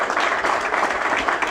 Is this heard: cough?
no